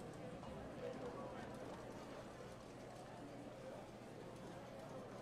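Galloping hooves in a video game horse race heard faintly as a low rumbling patter, with someone talking over it throughout.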